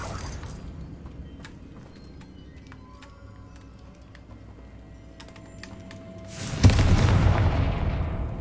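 A Confringo spell blast in a video game, a broadband explosive burst erupting late and loudly after a stretch of quieter clicks and game ambience, then a sustained rumbling roar.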